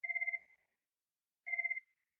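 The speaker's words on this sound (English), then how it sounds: "Sorry about that phone." Two bursts of electronic telephone ringing, each about half a second of rapid warbling trill with a pause between, clear and fairly close against silence in a quiet lecture room.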